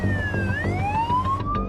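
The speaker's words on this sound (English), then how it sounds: "Intensive care paramedic Cullen is on his way, lights and sirens, to the time-critical case" A close ambulance siren on a freeway sweeps down and then climbs in pitch over engine rumble, loud and continuous.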